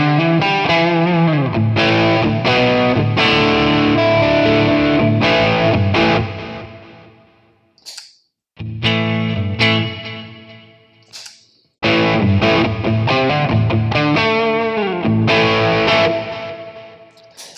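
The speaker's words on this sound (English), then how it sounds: "So right now I'm going to turn on an overdrive pedal in front of the device." Electric guitar driven through an overdrive pedal into a Lekato TANK-G amp modeler, loud distorted chords and riffs in bursts with two brief pauses near the middle.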